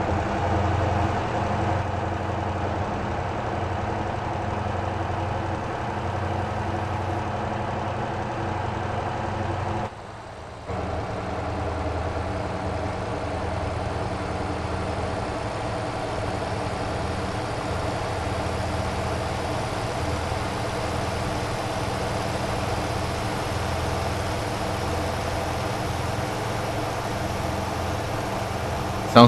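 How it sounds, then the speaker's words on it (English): An NPC car engine running in Motor Town, a steady droning idle held almost unchanged for half a minute, with one brief dip in level partway through. "Sounds like this NPC is gonna overheat his engine."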